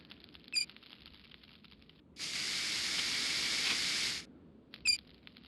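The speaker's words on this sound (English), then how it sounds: "a burst of steam blasted out" A burst of steam from an old century-old boiler in a video game: a steady loud hiss lasting about two seconds, rising abruptly and cutting off, with faint clicks before and after.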